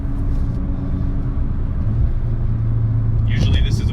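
Audi S3 driving in dynamic mode with stiffer suspension, a steady low engine and road rumble throughout, with a brief higher rasp near the end.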